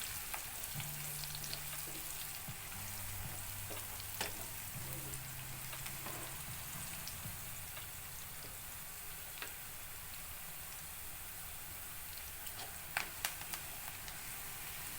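Dal dhemsa (round gourd) with coriander powder fries and is stirred in a pan, a soft steady sizzle with occasional spoon scrapes and clinks close by, with no talking.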